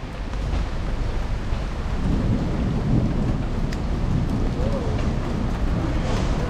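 Heavy rain falls steadily during a bicycle ride on a city street, a dense, continuous hiss with low rumbling and wind buffeting the microphone throughout.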